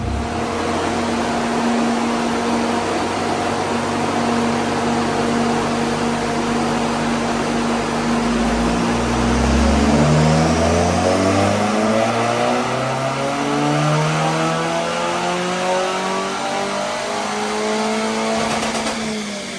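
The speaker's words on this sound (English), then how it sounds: "it's made it up onto the dyno, so now it's time for its initial power run and give us a baseline" Mitsubishi Colt CZT with a 4G15T turbocharged MIVEC engine revving loud and close on a dyno during a power run, its pitch climbing steadily through the gears with no talk over it.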